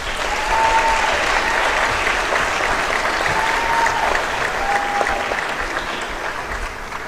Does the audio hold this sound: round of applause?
yes